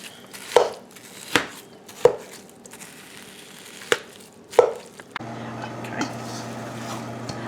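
Ground beef being broken up and stirred in a pot for stuffed bell peppers, a series of sharp spoon knocks against the pot at an uneven pace, followed by a steady low hum.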